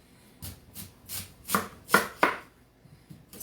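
A knife slices thin strips for lasagna noodles on a cutting board, giving a series of crisp, close strokes in an uneven rhythm, about seven cuts, with no one talking.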